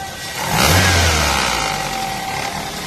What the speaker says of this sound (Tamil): இதான் ஃப்ரெண்ட்ஸ், ஸ்விஃப்ட் டிசையர் பெட்ரோலோட ரெண்டு இன்ஜின் சவுண்டு.